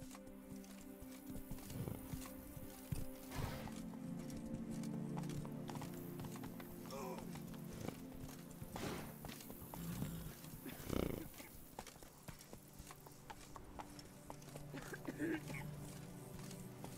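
Horse hooves clip-clop at a steady gait beneath a dense layer of music and ambient sound, with an occasional whinny, lasting throughout.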